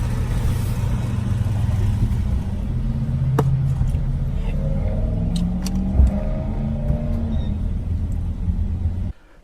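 A vehicle towing a stock trailer rolls through a Starbucks drive-through, giving a steady low engine rumble throughout, with faint clicks and clunks over it before the sound cuts off at the end.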